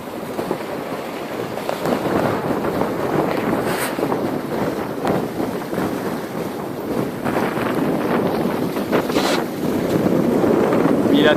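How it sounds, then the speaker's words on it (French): A Bavaria 30 cruiser sailboat running on a broad reach at over five knots in 12–15 knots of wind, with loud wind buffeting the microphone over a constant rush of water along the hull. "Une belle petite navigation. À peine 12-15 nœuds de vent."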